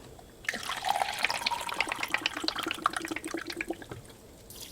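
Vinegar pours into a pot for pickling brine, a close, bubbly trickle of liquid running steadily for a few seconds with uneven gurgling splashes.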